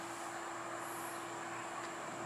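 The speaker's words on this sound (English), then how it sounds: "Yeah, that's a freight. That's a freight. Yeah, that's a train," A freight train rolls past a MARC commuter rail station, heard as a steady, continuous rumble and hum with a faint whine, moderately distant and unbroken by talk.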